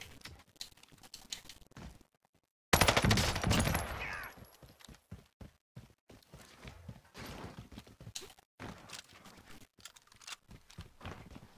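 Rapid gunfire bursts from the Warzone video game, dense crackling shots with a loud burst in the middle and continued scattered firing afterward, close and intense.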